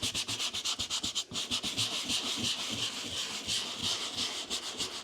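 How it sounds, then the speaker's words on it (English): Leather Bible cover scrubbed hard, close and steady, with quick rhythmic rubbing strokes that run on continuously. "Can you scrub this hard enough to get all the black out of it?"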